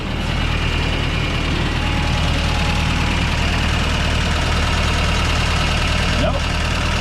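Toyota work truck engine idling while warming up, a steady loud rumble with a faint knocking texture that holds throughout the clip without change or talk.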